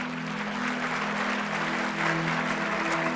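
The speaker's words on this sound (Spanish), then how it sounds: "Démosle palmas al Señor." Congregation clapping together in a Spanish-language church service, a steady dense wash of applause over a sustained low organ or keyboard hum, with no voices standing out.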